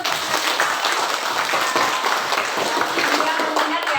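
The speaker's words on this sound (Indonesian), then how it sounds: "Tepuk tangan dulu." Students in a classroom clap together in a brisk, scattered burst of handclaps, fairly loud and close, with voices mixed in beneath the clapping.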